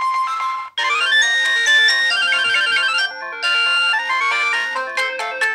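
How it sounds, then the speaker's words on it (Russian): A T-Mobile branded ringtone plays from a 2004 Samsung SGH-C225 mobile phone: a bright electronic melody of stepped tones that pauses briefly near the start and again midway, loud and close with no voices. "Это фирменные T-Mobile-овские."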